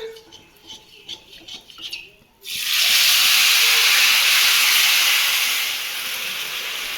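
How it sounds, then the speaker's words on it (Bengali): Panch phoron hitting hot oil for aloo dum bursts into a loud, steady hiss that stays strong, then eases slightly near the end, after a quieter stretch of faint kitchen sounds. "তেল হয়ে গেল পাঁচ ফোড়ন দিয়েছি"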